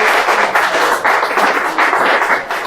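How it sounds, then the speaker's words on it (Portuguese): A congregation in church gives a round of applause for the Lord, a dense, steady wash of many hands clapping at close range with no talk over it. "Dá salva de palmas para o Senhor"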